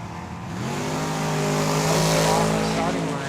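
Drag racing cars, one a Dodge Dart, launch off the starting line at Tucson Dragway, their engines rising in a loud, building roar with whining harmonics that swells over several seconds under the announcer's commentary.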